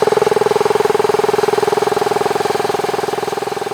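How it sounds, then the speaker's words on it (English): A Daystate 110-volt 4,500 PSI air rifle compressor starts up and runs with its condensation drain valve open, giving a loud, steady mechanical drone with a fast regular pulsing throb and no voices. "Daystate recommends you start the compressor with the condensation drain valve in the open position."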